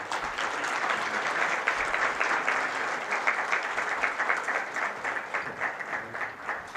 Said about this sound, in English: Sri Jyotiraditya M. Scindia, with a warm round of applause.